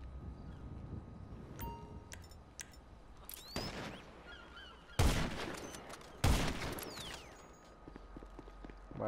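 Several sharp gunshot blasts from GTA V Online ring out at intervals over a quiet background, with scattered smaller clicks and chirps between them.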